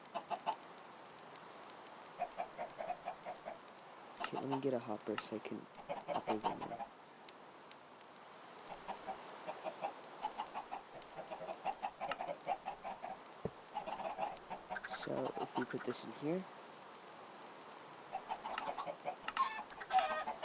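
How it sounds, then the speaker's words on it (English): Chickens cluck repeatedly in the Minecraft video game, spawning inside an automatic chicken farm in Bedrock edition; moderately loud, irregular bursts recur throughout while someone talks over them. "So now we have to wait for the chickens to spawn."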